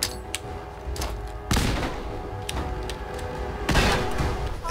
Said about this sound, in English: Let's get a grenade out.